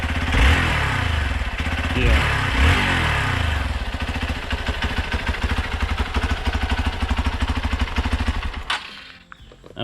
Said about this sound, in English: Why don't you start this bike?